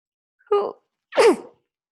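A single close, sharp sneeze with a short intake of breath before it, from a person during a class, alone against silence.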